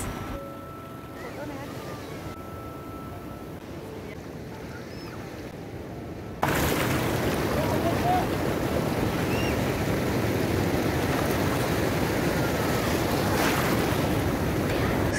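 Sea waves break and wash onto Baga Beach in Goa, starting as a softer surf and then turning into a loud, steady close rush of foaming water with wind noise across the microphone.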